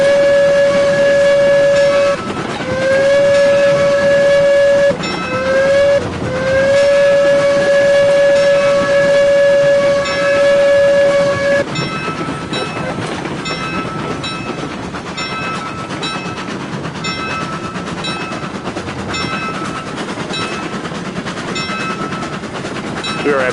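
A steam locomotive in Railroads Online sounds its whistle in several long, loud blasts with short breaks between them. The engine keeps running underneath with rhythmic chuffing and track clatter after the whistle stops.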